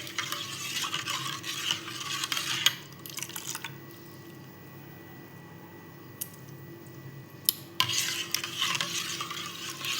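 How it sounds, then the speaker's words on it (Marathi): A spoon stirs salt into sol kadhi, a chilled kokum and coconut milk drink, making soft liquid swirling and faint clinks close by, with a quieter pause in the middle before the stirring resumes. "आणि हे एकत्र मस्त असं मिक्स करून घेऊया"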